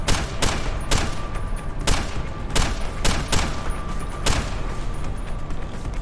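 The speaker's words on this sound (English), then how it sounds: "Shots!" Rapid gunfire in the video game Deus Ex: Human Revolution, a string of sharp, loud shots in irregular quick succession over a dense game soundscape.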